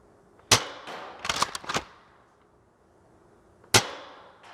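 Adventure Force Nexus Pro dart blaster firing short darts: a sharp pop, a quick burst of three or four shots a moment later, then one more loud shot after a pause, all close and with no talking.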